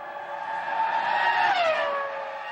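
A 2004 Formula 1 race car screams past with a high, tonal engine whine that rises and then drops in pitch around the middle as it goes by, loud and steady over about two seconds.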